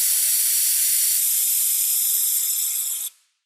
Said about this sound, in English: we'll simply use our pneumatic bleeder to suck the fluid out